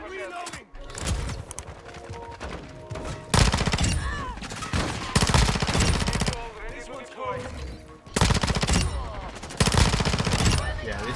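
PSDW 528 submachine gun fire in Modern Warfare 2, rapid automatic bursts repeating in several loud volleys with brief gaps, layered with game sound effects and an excited voice.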